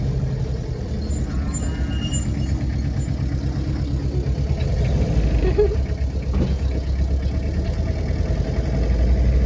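A vehicle's engine runs at a steady idle nearby, a continuous low rumble with a faint knocking throb that holds unchanged for the whole stretch, with no talking.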